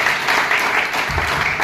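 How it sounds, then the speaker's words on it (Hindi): Loud, close applause from a union gathering honouring a union official, with dense clapping throughout and a deeper rumble of crowd noise toward the end. "एक बार जोरदार तालियां इनके लिए।"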